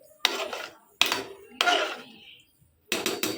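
Soaked rice is stirred in a pot for pulao, giving four separate scraping, clattering strokes of a spoon against the metal, close by, with short silent gaps between them.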